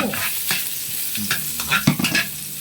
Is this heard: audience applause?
no